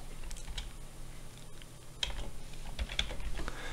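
Quick, steady computer keyboard typing, several soft key clicks over a constant low room hum, heard alone at moderate level during Revit electrical design work.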